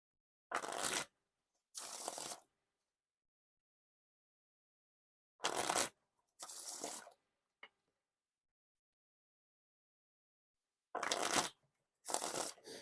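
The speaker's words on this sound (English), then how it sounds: "Now for the Wiffle Shuffle, Bridge Shuffle." Smokey Bear playing cards by Art of Play are riffled in three pairs of crisp, fluttering bursts, each riffle followed by a softer cascade as the cards bridge together, with silences between.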